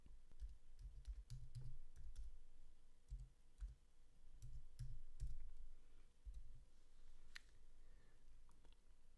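Keys clatter on a computer keyboard as a command is typed, a steady run of close, crisp clicks in irregular bursts with brief pauses, set against a low background hum and no talking.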